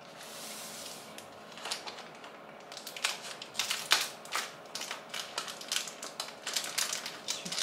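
Children's scissors give quiet, irregular crisp snips and crinkles as they cut a dough template in a kitchen. The snipping speeds up into a denser run of clicks toward the end.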